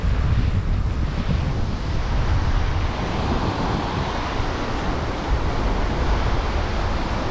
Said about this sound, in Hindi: वाह यार क्या मस्त नदी बह रही है यहाँ पर।